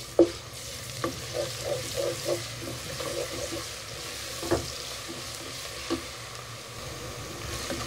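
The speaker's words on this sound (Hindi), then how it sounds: "अब हम इसमें लहसुन और अदरक का पेस्ट डालेंगे।" Garlic and ginger paste frying with browned onions in a pot, a steady soft sizzle with scattered clinks and stirring scrapes, close by and fairly quiet, no voices.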